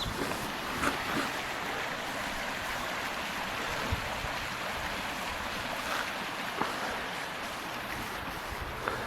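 Cinnamon Creek, a Montana stream flowing into the Gallatin River, rushes steadily with a broad, constant water wash and occasional small splashes.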